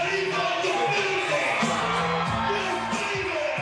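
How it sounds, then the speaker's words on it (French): Packed crowd at a Cannes nightclub cheering and whooping for a rapper, a dense steady roar of yells and voices with music-like tones running underneath, loud and unbroken throughout. "attendu par une foule en délire"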